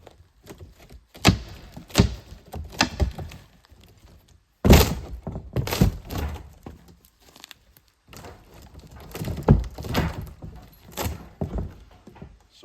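Demolition of a wooden wall to make way for a door, with irregular heavy thunks, knocks and cracking wood blows coming in clusters, close by and fairly loud, separated by brief quieter gaps.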